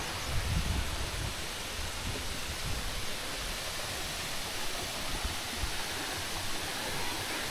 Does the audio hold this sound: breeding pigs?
no